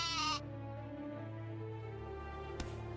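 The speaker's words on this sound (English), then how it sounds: "Pet this sheep." A sheep in the farming game My Time at Portia gives a single short bleat at the start, then game music and ambience carry on quietly with a faint click near the end.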